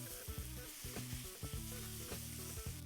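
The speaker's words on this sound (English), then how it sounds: "so keep sauteing" Mushrooms sauteing in a pan for vegan Japanese curry, cooking down until deep brown: a steady soft sizzle with repeated spatula stirs and scrapes, close and moderately quiet, no voices.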